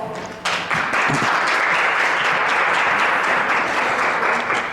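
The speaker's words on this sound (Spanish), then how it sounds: "para quien les pido un aplauso, por favor" An auditorium audience at a nursing lecture welcomes the speaker with a loud, sustained round of applause that swells in after a brief spoken intro and stays dense and even throughout.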